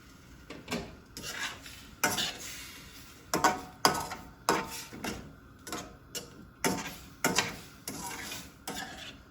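A utensil scraping the sides of a pan of deglazed berry pie filling with sugar, a steady run of rhythmic scrapes and clinks close by, with no talking.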